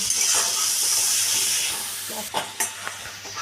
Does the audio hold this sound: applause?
no